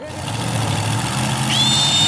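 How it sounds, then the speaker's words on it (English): Tractor engine in a cartoon, a loud steady mechanical drone with a rising whine near the end, running continuously and up close. "And Skip, think you could actually drive this tractor?"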